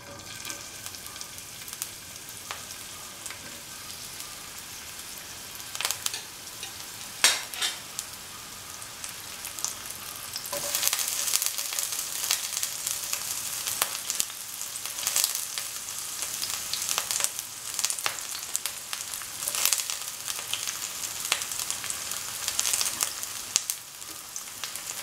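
Onions fry in a pan for spicy okra fried rice with a continuous close sizzle and crackle, which gets louder and busier partway through, with no talking.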